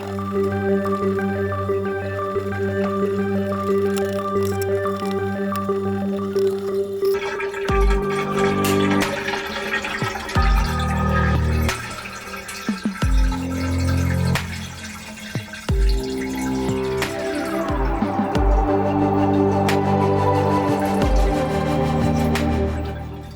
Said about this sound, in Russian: Вот сейчас вся вода слилась до уровня, на котором находится сам абразив.